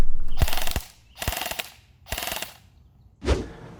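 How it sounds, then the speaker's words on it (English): G&P M16A1 airsoft electric gun firing full-auto bursts, three rapid buzzing volleys each about half a second long followed by a single shorter burst, loud and close with brief silent gaps between. "This gun shoots really, really well."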